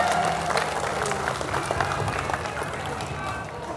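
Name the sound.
audience applause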